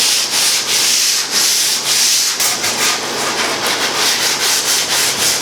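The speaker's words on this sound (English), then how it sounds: "I'm very gently going to sand this back." Steady back-and-forth rasp of sandpaper rubbed by hand over wood filler, rhythmic strokes close up with no voices.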